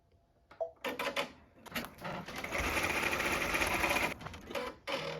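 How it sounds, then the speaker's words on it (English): A Brother/Babylock 10-needle embroidery machine starts up and stitches a placement stitch, a quick steady mechanical rattle after a few short starts and clunks, close and clear, then stopping briefly before resuming. "I'm going to let it go ahead and stitch the next stitch, which is my next placement stitch."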